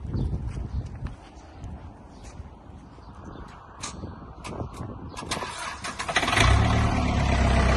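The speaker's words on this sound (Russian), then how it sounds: "Трактор работает мягко, отлично, чистенько." A Mitsubishi MT30 Japanese mini tractor engine cranks and catches, then runs with a steady rumbling idle that grows louder toward the end, with scattered clicks and knocks.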